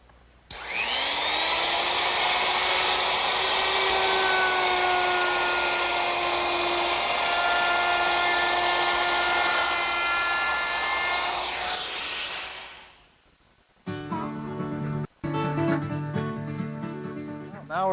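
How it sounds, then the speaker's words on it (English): A router fitted with a 1/4 inch round-over bit rounds the top edges of wooden table legs. It gives a loud, steady high-pitched whine for about twelve seconds, then spins down, followed by short, choppy shop noises. "I want to use a 1/4 inch rounding over bit, and I want to round over the top edges of each leg."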